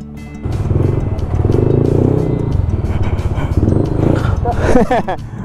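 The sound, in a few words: Yamaha NMAX motorcycle with JVT V3 exhaust pipe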